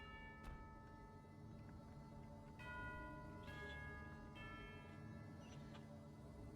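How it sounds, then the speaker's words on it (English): A bell rings in the Genshin Impact video game, several clear, faint chimes struck at intervals over a quiet ambient background, with no talk. "Kinda sounds like a school bell."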